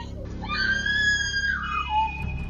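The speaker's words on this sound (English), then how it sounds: "That scream will echo in my head for many years" A person lets out one long, high, piercing scream that holds steady and then slides downward, loud and close over a low background rumble.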